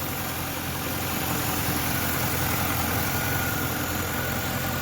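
A 2000 Chevrolet Corvette convertible idling, a smooth, steady engine rumble with a constant hum and no change in speed, heard up close and alone.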